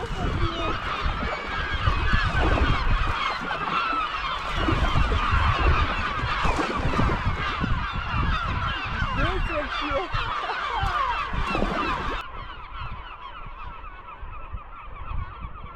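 Loud, raucous gull calls overlap continuously, a dense squawking chorus up close that drops slightly in level near the end, heard from a kayak on Lake Baikal.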